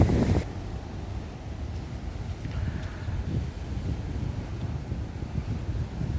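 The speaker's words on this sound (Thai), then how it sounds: "ลมดีครับพี่น้อง ลมดี" Steady outdoor wind buffets the microphone with a low, continuous rumble near a grove of pine trees, swelling slightly in gusts with no voices.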